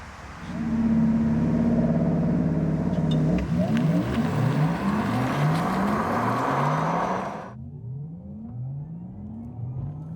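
A rear-wheel-drive Porsche Taycan electric car launches hard on a wet road, a loud rising drivetrain whine building for several seconds, then easing off to lower, fluctuating road and motor noise.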